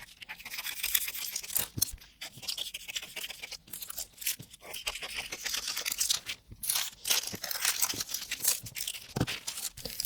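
A paper sewing pattern piece being cut out and handled up close: irregular crisp scissor snips, rustles and crinkles come in uneven bursts over several seconds.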